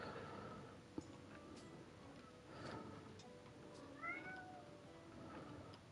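Cat meowing in the Tavern Manager Simulator video game, a few faint, short meows over a low, steady tavern background hum, with a light tick near the start.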